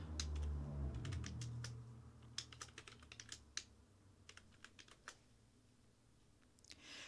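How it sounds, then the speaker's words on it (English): Keys tapped on a computer keyboard while writing a JavaScript comment in Visual Studio Code, quick bursts of close, crisp clicks with short pauses, after a brief low rumble at the start. "Then type the tag and then the rest of the comment."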